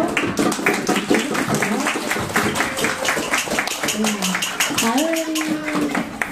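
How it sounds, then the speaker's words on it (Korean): Audience clapping at a classical talk-concert, dense and continuous across the hall, with a voice talking over the applause toward the end. "이 음악 선물을 해주신 앞에 분들께 감사의 박수로"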